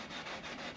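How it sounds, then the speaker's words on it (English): A 320-grit sanding pad rubs paint off a cast-iron planer table casting in a steady, faint scratchy rasp with slight back-and-forth strokes. "what I'm doing is just getting rid of the tougher stuff with a sanding pad"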